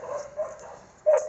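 Dogs barking in short bursts on a farm, a couple of moderate yips spaced apart with a louder bark near the end, fairly close with quiet background.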